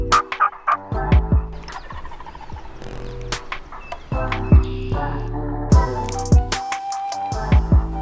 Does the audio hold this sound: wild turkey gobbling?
yes